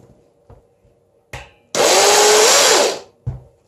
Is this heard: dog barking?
no